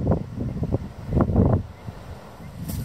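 Strong wind gusts buffet the microphone outdoors at a coastal nature reserve on a warm day, a rough, fluttering rumble that rises and falls in uneven bursts.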